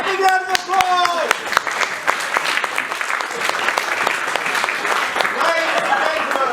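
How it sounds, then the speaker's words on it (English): Theatre audience breaks into loud, sustained applause close by, a dense wash of clapping running for several seconds with a few voices over it. "Thank you very much, big round of applause!"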